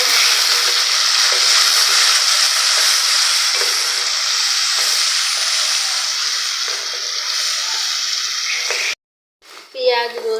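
Prawns coated in salt and turmeric sizzle steadily in hot oil, a close, loud, continuous frying hiss that fades slightly, then breaks off into a short stirring clatter near the end.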